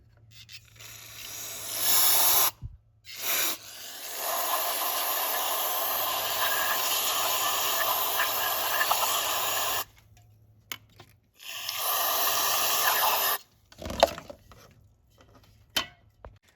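Loud hissing of aerosol brake cleaner sprayed in three long bursts, with short pauses and faint clicks between them, while cleaning the intake valves of a direct-injected engine.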